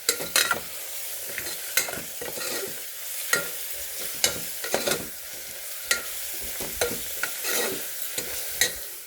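Dried red chillies, cut in halves, frying in oil with garlic in a pan, a steady sizzle broken by sharp scrapes and clinks of a stirring spoon at irregular intervals, close and clear with no voices.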